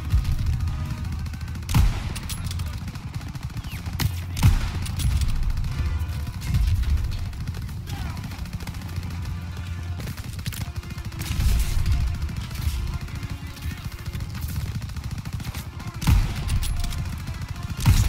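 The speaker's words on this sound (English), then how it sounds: "Everyone open fire." Intense Call of Duty WWII battle gunfire with sustained rifle and machine-gun bursts, heavy impacts and booms, loud and continuous throughout with only brief lulls.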